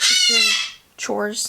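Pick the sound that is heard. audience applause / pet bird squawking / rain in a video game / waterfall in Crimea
pet bird squawking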